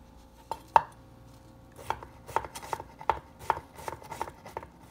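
A knife chops zucchini into pieces on a cutting board for bhaji, sharp close taps that start sparse and then fall into a quick, irregular run, with no talking.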